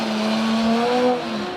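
A Toyota race car accelerates on the ice circuit of a Trophée Andros race in Andorra, a loud engine tone climbing steadily in pitch, close and without talk.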